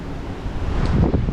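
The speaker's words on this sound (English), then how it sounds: "But that wind is just so strong." Strong wind buffets the microphone at a lakeside fishing spot, a steady broadband roar with gusts building louder toward the end, with possible water wash mixed in.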